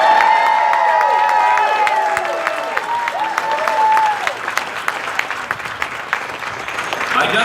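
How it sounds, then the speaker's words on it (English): A crowd at an awards ceremony applauds with some cheering, the clapping thinning out toward the end into scattered individual claps. "I know the big round of applause will happen"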